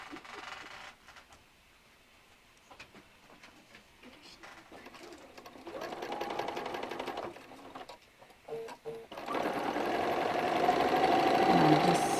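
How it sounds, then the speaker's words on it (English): A sewing machine stitches along a marked line for a quilt block. Its runs of fast mechanical whirring start and stop and grow louder, close, with birds cooing faintly in the background. "And I'm just stitching right along my line and continue."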